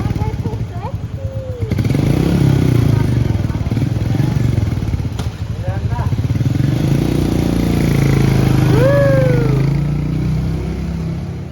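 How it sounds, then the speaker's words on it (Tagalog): Royal Enfield Meteor 350 motorcycle engine idling and revving in rises and falls, near and steady, with people talking over it throughout. "Let's try out the new Royal Enfield Meteor 350."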